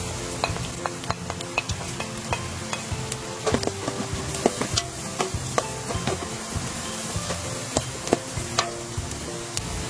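Sliced onion hitting a hot pan of chicken sopas, a steady close sizzle with repeated scraping and clinking of a stirring spoon throughout, no talking.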